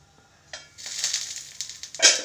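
Kara paniyaram made from idli batter sizzles in oil under a lid, a soft crackle that swells into a brighter burst of frying near the end, with no talking.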